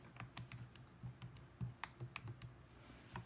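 Quick, soft button presses as values are keyed into a calculator, a close, faint run of irregular clicks and taps with no talking.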